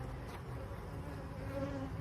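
Honey bees buzz around an open hive during a beekeeper's inspection, a soft, continuous droning hum that holds steady and fairly quiet for the whole moment.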